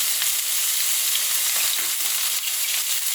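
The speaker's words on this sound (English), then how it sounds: "So I take it and I just throw it on for a few seconds, just to get a good sear on it." A steak sears in a hot pan with a loud, steady broadband sizzle that holds without a break for a few seconds, with no talking over it.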